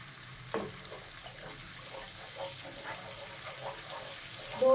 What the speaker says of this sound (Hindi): अब हम अपने तमाम मसालों को अच्छी तरीके से भूनेंगे।